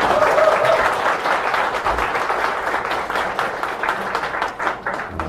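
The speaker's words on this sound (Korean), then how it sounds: "동의하시면 박수 한번 부르시죠." A lecture audience at a political talk breaks into sustained applause, a dense, even wash of clapping that carries loudly for several seconds and tapers slightly toward the end.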